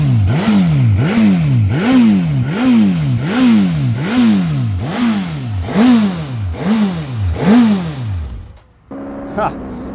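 A 2024 Suzuki GSX-S1000GX motorcycle engine revs hard about ten times in a steady rhythm, each rise and fall loud and close, then cuts off abruptly near the end with only faint idle and clatter left.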